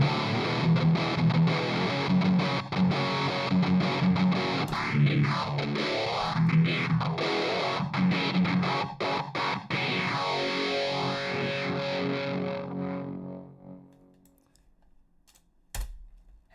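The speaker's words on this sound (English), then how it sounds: "we should be able to hear the phaser come in and leave" A distorted electric guitar riff from a Line 6 POD Go, with a phaser sweeping through the tone in slow whooshing arcs before the notes ring out and fade.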